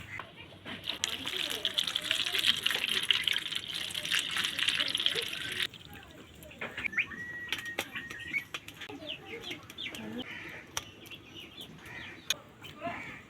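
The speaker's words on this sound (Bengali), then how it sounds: "চিংড়ি মাছগুলো আগে থেকে আমি ধুয়ে নিয়েছিলাম আরেকবার একটু ধুয়ে নেব" Prawns are rinsed under running water, a close gush and splash for several seconds that then cuts off, followed by quieter handling sounds with faint birdsong and clucking in the background.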